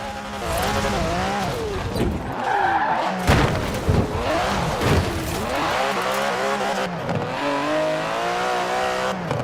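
An Aston Martin DB11 with a 5.2-litre twin-turbo V12 in Forza Horizon 4 sustains a loud engine drone that rises and falls through revs, with tires squealing and skidding throughout.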